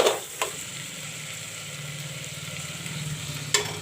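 Peas being stirred with masala in a hot pan give a steady hiss and sizzle, with a few clinks of the spoon against the pan at the start and end.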